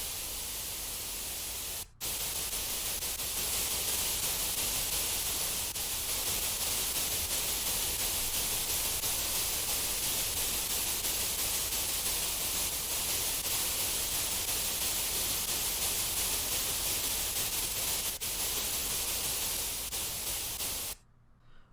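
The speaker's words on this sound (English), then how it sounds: "And lastly is White Noise." Steady, loud hiss of white noise filling the whole range, continuous and unchanging, with a brief dropout near the start and an abrupt cutoff at the end.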